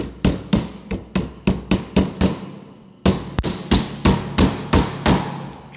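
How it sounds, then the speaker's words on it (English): A small hammer drives nails into a wooden beehive frame fitted with wax foundation, giving about a dozen sharp, close taps in a steady rhythm with a short pause halfway through. "it's nice to have a small hammer for this, because that way you're not hitting the wax foundation and damaging it"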